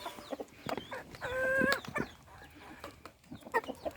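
A rooster crows in a farmyard with hens clucking around it, the crow a sustained call rising out of scattered close clucks and rustling, with no talk.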